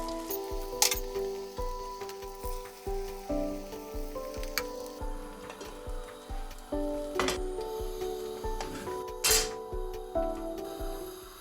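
Egg frying in butter in a pan for a toast sandwich, a steady close sizzle with soft scraping and stirring sounds over a background of music.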